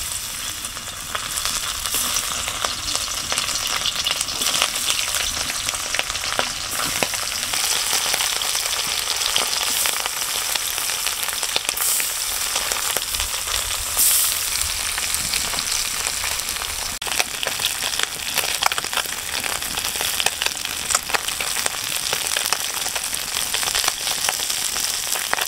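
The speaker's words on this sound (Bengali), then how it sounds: "তেলটা গরম হয়ে গেছে, এখন আমি মাছগুলো দিয়ে দেবো।" Tengra fish frying in hot oil in a pan, a loud, steady, dense sizzle with crackling spatter that runs unbroken throughout, with no talking.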